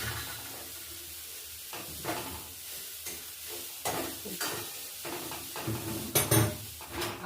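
Spoon scraping and stirring grated kheer mixed with coconut in a pan on a village stove, soft uneven strokes against the metal with a light sizzle and a few sharper knocks.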